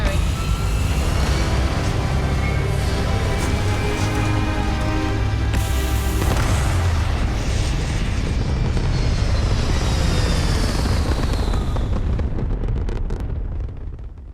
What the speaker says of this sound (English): All the thrust is firing.